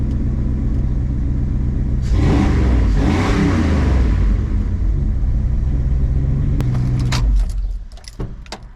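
A car engine with a budget catalytic converter fitted idles low and steady, then revs up hard for a couple of seconds with a deep, throaty exhaust roar before settling and cutting off near the end.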